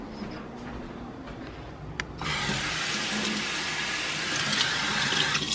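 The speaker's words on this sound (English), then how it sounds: "I have to water this." Water runs steadily into potted plants for about two seconds after quieter handling noises begin, a bright continuous splash and pour.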